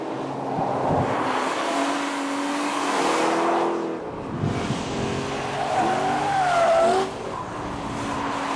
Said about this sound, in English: right here is straight line braking, and then as you go through a sharp turn, you're on the power, so you're cornering